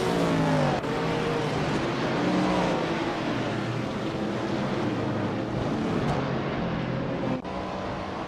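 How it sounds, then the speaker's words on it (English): Race car engines drone and whine together in a racing video game, several cars audible at once with rising and falling revs, loud and continuous throughout. "The race is heating up with several cars climbing through the ranks."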